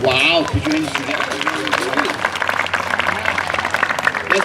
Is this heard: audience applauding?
yes